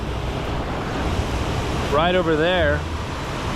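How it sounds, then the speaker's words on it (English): A dangerous waterfall roars with a constant broadband rush of water, mixed with wind buffeting the microphone, while a person briefly speaks over the steady noise. "it's a waterfall, a very dangerous waterfall."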